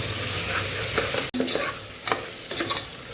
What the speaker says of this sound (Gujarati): ટમેટું અને બટેકાને ઉમેરીને મસાલા સાથે આપણે સાતળી લીધું છે।